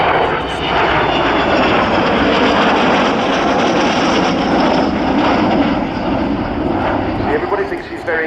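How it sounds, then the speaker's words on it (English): An Avro Vulcan bomber flies past at an RAF Cosford airshow, a loud continuous roar of jet engines with broad rushing noise, steady and heavy, while a commentator talks over it. "Your very own Vulcan."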